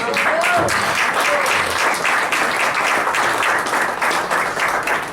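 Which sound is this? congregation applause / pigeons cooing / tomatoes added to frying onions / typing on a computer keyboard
congregation applause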